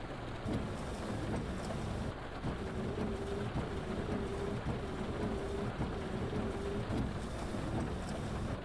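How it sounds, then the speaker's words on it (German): Storm wind and heavy rain roar in The Bus driving game during a drive through bad weather, a low constant rumble of gusts and downpour with a faint repeating tone underneath, no voices. "Machen wir Sturm jetzt."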